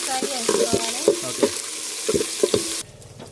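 Chillies and ginger garlic paste fry in a pan, a bright steady sizzle broken by repeated spoon scrapes and taps, close and loud, cutting off abruptly near the end with no voices.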